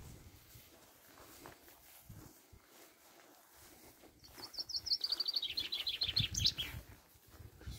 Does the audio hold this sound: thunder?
no